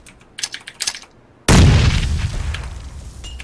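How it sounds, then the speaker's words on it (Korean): Grenade explosion in the PUBG battle royale video game: one sudden loud boom that rumbles and decays over two seconds, following excited shouting from players. "수류탄!"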